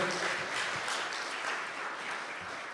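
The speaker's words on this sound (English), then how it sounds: "Give him a round of applause" An audience at a political debate event applauds for a debater, steady dense clapping from a crowd lasting the whole stretch and slowly easing off.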